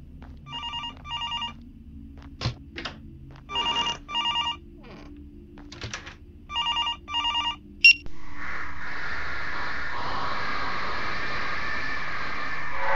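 A telephone rings in repeated bursts in the night-time horror game Graveyard Shift, set at a graveyard, with short gaps between rings over a low ambient hum, followed by a steady hiss of static.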